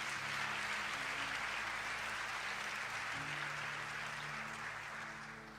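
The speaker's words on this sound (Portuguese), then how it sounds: "diga amém e aplauda mais uma vez ao Senhor Jesus" Congregation applauding during a Portuguese-language church service, a sustained roar of many people clapping over soft held keyboard tones, steady throughout and tapering slightly at the end.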